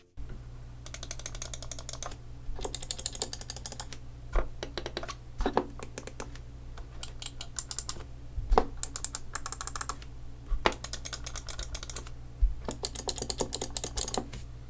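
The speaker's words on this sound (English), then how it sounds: "Here's a quick sound test of each mouse so you guys can see how the switches sound." Bursts of rapid mechanical clicking from Razer Deathadder Elite and Corsair M65 Pro mouse switches repeat in short runs with pauses between, close and crisp.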